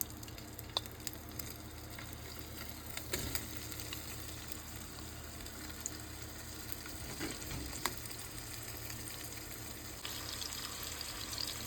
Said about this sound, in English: I'm gonna add our smoked sausage.